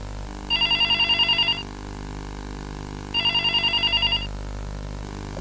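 A telephone rings twice in clear electronic bursts, each trill lasting about a second with a pause between, over a quiet room.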